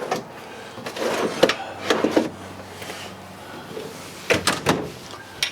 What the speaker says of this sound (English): nice pantry system here with the pull-out drawers